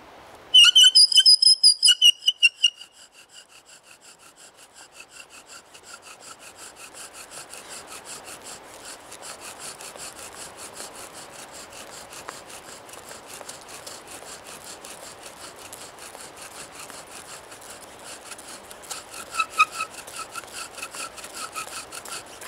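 A bow drill spins a cedar spindle against a cottonwood board for friction fire, making steady back-and-forth rubbing and rasping strokes close by. It opens with loud squeaky whistling on the first strokes, then settles into continuous grinding, with another squeaky burst near the end.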